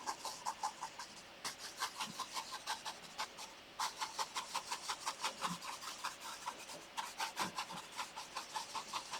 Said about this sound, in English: take just a tiny touch of this paint on my brush, and now I'm gonna rub it right here